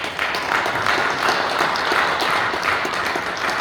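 Applause fills a Korean Presbyterian ordination ceremony for a new pastor, a dense, steady crowd clapping that stays even and close throughout.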